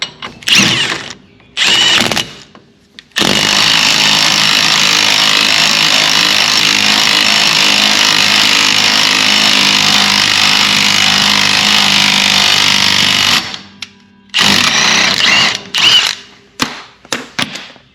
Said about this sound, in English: we'll just tighten the nut down, and by tightening it down it'll draw the threads in